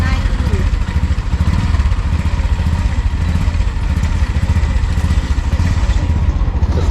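An auto rickshaw engine runs steadily near the Kondeshwar waterfall in Badlapur, a loud, close, continuous throbbing chug with rattly clatter that holds throughout without letting up.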